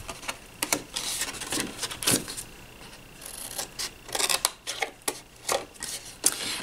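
Scissors snip through the paper squares of a handmade Christmas gift card box in a series of short, close, crisp cuts with small rustles of paper between them, no talking.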